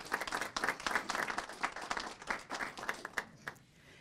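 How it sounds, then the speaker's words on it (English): A city council meeting audience gives a round of applause, dense steady clapping from a modest crowd that thins out toward the end. "Let's give them another round of applause."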